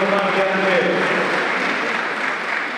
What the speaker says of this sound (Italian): vi chiedo un applauso sempre per Claudia Crenti